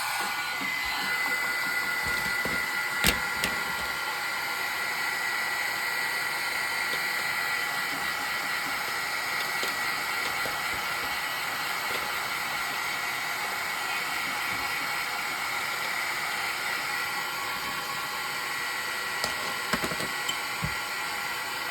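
A heat tool blows steadily while heat-setting dye-based ink, making a continuous airy whir that holds for the whole stretch, with a few faint clicks of handling.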